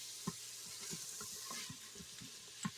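Food sautés quietly in a pan with a soft continuous sizzle, punctuated by a few brief scraping stir strokes at close range; low level and no talking.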